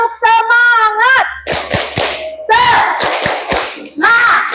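A primary school class does a rhythmic encouragement clap, sharp sets of group claps alternating with children chanting in unison, close and loud.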